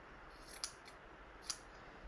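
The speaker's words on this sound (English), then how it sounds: "So I'm just going to cut a piece of this off." Scissors cut fabric for a pillowcase journal cover, two soft, crisp snips about a second apart in a quiet room, faint and close, with no talking.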